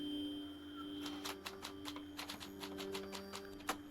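Rapid typewriter-style clacks accompany scrolling text in the VR visual novel Tokyo Chronos, a dense run of crisp keystroke ticks with a faint steady tone underneath and no talking.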